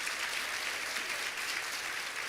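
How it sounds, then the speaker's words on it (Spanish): Congregation applauding in a Spanish-language church service, a dense, even wash of clapping filling the whole stretch with no break or speech over it. "denle un fuerte aplauso a Dios."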